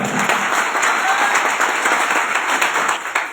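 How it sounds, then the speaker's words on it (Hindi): A large crowd at an AWPL gathering gives a dense, sustained wash of applause for MD Sanjeev Kumar, loud and continuous throughout with no pauses. "तो एमडी संजीव कुमार की एक दमदार वाली ताली हो जाए।"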